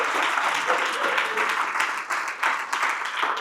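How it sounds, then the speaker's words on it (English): A crowd at a business seminar claps in steady, moderately loud applause for a few seconds, with dense overlapping hand claps. "That deserves a round of applause."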